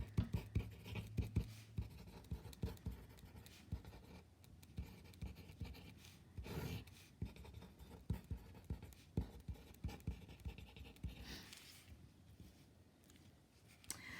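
A pen scratches across paper in quick, close strokes and taps, a steady patter of writing as a chemistry formula for gas density is jotted down, with no talk.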